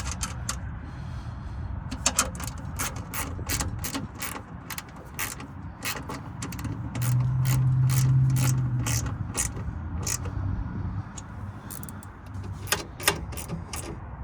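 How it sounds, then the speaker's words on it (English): A ratchet tightens the nerf bar bolts on a 2021 GMC Canyon AT4, giving rapid, close clicking in repeated bursts with short pauses between them and a low mechanical hum in the background. "go back and tighten up all the upper bolts that you just put in to make sure they are all locked in"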